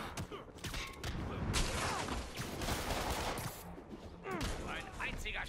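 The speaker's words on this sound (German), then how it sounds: "Ein einziger Schuss!" Gunfire rings out during a Spider-Man video game fight against a biker gang, bursts of shots and impacts mixed with game effects and a voice speaking.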